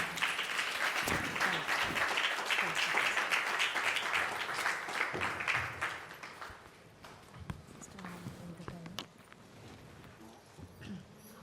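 A church congregation at a women's Christmas service claps in welcome for a woman preacher, steady loud applause filling the room for about six seconds before thinning to scattered claps and faint murmurs.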